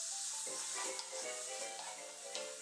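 Artichokes sizzle in olive oil in a skillet, a steady close frying hiss with faint stirring scrapes running throughout and no voices.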